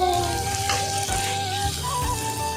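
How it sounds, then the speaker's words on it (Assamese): Taro and potato in hot oil with salt and turmeric, frying with a steady crackling sizzle and light stirring, while a low background hum runs underneath. "এতিয়া মই কুন্দুলি আৰু আলু দি দিলোঁ, নিমখ হালধি দি দিলোঁ, তাৰপাছত মজাকৈ লৰাই লওঁ।"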